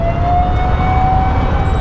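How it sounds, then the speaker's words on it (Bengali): An ambulance siren on a flyover after an accident, a steady high wail held over loud traffic rumble, fairly near and continuous. "অ্যাম্বুলেন্স সাইরেন দিচ্ছে।"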